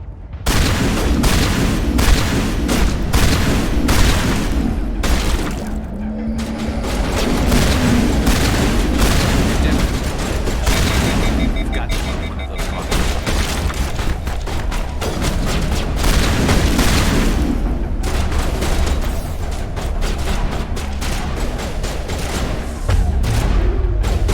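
Grenade blasts and combat fire in the Mass Effect Legendary Edition video game form a loud, continuous barrage of booming bursts and crackling impacts throughout, with game sounds layered densely and no pauses.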